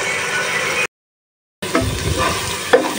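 Dried chapila and bailla fish being fried and stirred in a pan for a curry: a busy sizzle with scraping stir strokes, cut by a brief silent gap before the frying noise returns.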